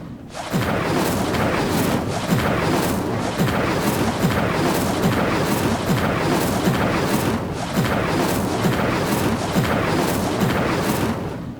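A sustained roaring, crackling blast of flame from the Incendio fire spell in Hogwarts Legacy, loud and dense with rhythmic surges for about eleven seconds, with no talking.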